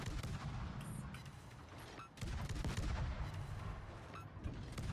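Heavy battleship gunfire in the World of Warships naval battle game, including a Bismarck salvo, comes as deep booming blasts over a dense, continuous rumble of combat noise, with one sharp break midway.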